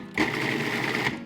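A blender pulses honey chipotle lime sauce, optionally sweetened with a spoonful of sugar, in one steady, close motor whir lasting about a second before cutting off.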